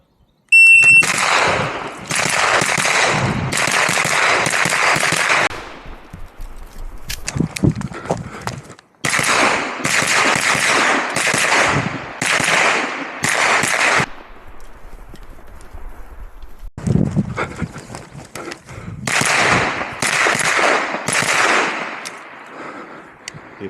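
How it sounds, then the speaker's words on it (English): Bursts of rapid pistol and rifle fire ring out at an IPSC practical shooting competition stage, loud closely spaced shots in several long strings with short pauses between them. "But then it was back to the shooting again."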